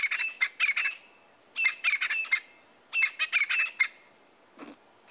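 Francolins at sunrise in the Sabi Sand wild area calling in harsh, rapid squawking bursts, three clustered rounds of grating chirps separated by short pauses, fairly close, with a lower call at the end.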